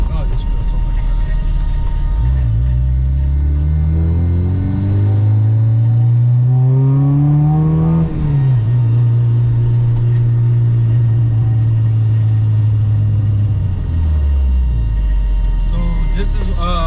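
A supercharged Acura RSX pulls hard through the gears, its engine note climbing steadily, dropping at a shift around the midpoint, then rising again before easing off. The loud, close cabin drone runs continuously throughout.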